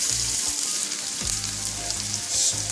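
Chopped onions hit hot refined oil with crackled cumin seeds and hiss loudly in a steady, close sizzle, with light stirring scrapes under the frying.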